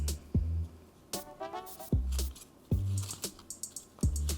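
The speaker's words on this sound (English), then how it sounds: "Now it might be easier to poke a hole with the scissors before doing that" Scissors snip and poke into paper while making a homemade pinwheel, a series of close, crisp clicks and rustling cuts at uneven intervals.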